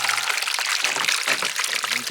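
Water pours from a small test waterfall being set up to fill a backyard pond, a steady close-up rush and splash that holds evenly from start to finish.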